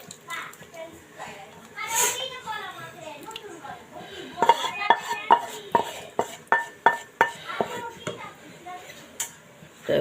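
Spice-braised cooked beef for tehari is tipped into a pot, with a run of sharp metallic clinks and scrapes of utensil against cookware. A voice and children's chatter can be heard nearby.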